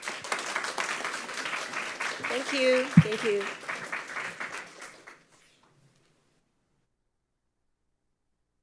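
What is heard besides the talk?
audience applause after a talk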